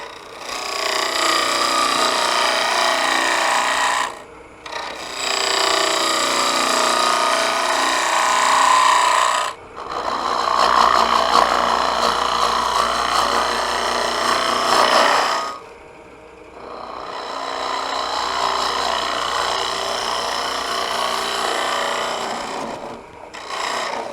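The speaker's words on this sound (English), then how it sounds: "let's work with that hollowing tool just a little bit more" A hollowing tool scrapes into a spinning bird's mouth bowl on a woodturning lathe, producing loud rasping cuts in long bursts of several seconds separated by brief pauses.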